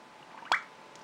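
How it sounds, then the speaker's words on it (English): Water bubbling and plopping inside an Onoto fountain pen as its plunger is pressed down while filling, a single close, soft wet plop with a faint drip after it. "you could see all the bubbling going on"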